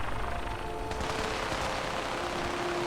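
Gunfire in the video game Fallout 4, rapid overlapping bursts of automatic weapons crackling steadily at a distance, a dense unbroken battle din running the full length.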